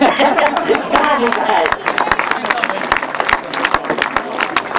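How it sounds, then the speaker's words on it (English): Crowd at a North v South grasstrack speedway meeting clapping in sharp scattered bursts over a busy hubbub, with a voice talking over it throughout. "let's keep that applause going then"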